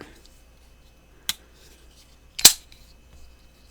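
A folding knife with a flipper snaps open twice, sharp isolated metallic clicks about a second apart, the second louder, close up in a quiet room with no talk.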